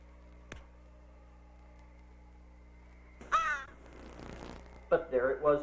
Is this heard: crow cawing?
yes